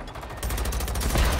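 Gunfire in a video game, a dense burst of loud, booming shots running through the whole moment with no pause.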